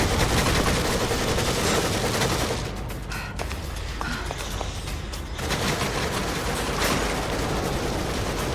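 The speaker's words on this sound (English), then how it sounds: "Was that a gun?" Sustained gunfire in the survival horror game The Evil Within, a dense rattling fusillade that runs throughout, dipping slightly in the middle before returning at full strength, with no talking.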